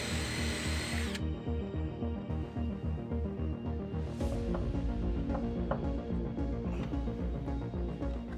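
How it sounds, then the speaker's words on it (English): A power drill with a 5mm bit bores holes in wood while building a sideboard, whining loud, steady and close for the whole stretch, with no talking. "I can then mark the location of the holes and drill out with a 5mm drill bit."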